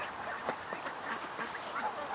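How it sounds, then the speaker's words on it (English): Ducks quack in a loose, overlapping chorus outdoors, a fairly faint scatter of nasal calls over steady background noise. "Ducks. Relaxing."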